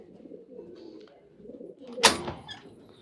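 Pigeons coo in a low, rumbling murmur throughout, then a sudden loud burst, like wings flapping, breaks out about two-thirds of the way through before the cooing continues.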